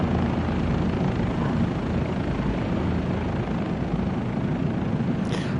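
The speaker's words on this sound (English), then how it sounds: "this helicopter is not fun to fly because it's so unstable" Bell 407 helicopter in Microsoft Flight Simulator 2024, a steady, dense rotor and turbine drone that stays constant and loud throughout, with no voices.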